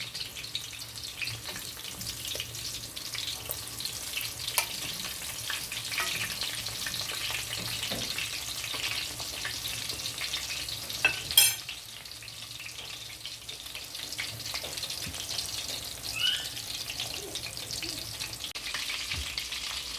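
Steady crackling sizzle of chicken nuggets frying in a hot pan of oil, close up, with occasional clinks and stirring sounds.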